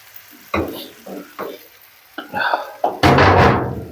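A loud burst of sizzling as chicken hits a hot pan of cooked tomatoes, after a few clanks and stirring sounds, with a voice talking briefly before it.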